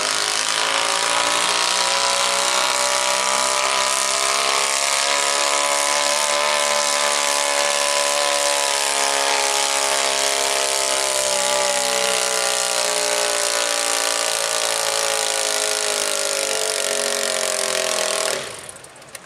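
A pulling tractor named Shoot the Thrill, from Raymore, Saskatchewan, roars at a tractor pull, one loud sustained engine howl that climbs slightly in pitch over many seconds before cutting off abruptly near the end.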